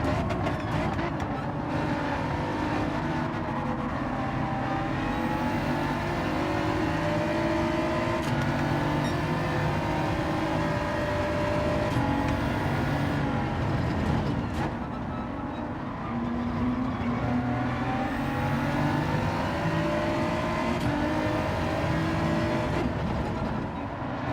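Race car engine in Gran Turismo 7 during an online lobby race, a continuous loud buzzing drone with rising and falling pitch sweeps through repeated gear changes and acceleration, no voices.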